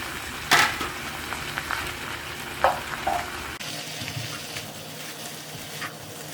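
Sweet potato stems stir-fried with seeded red and cheongyang chili peppers: a bright, close sizzle with a few sharp utensil knocks and scrapes early on, then a softer steady frying hiss, no voices.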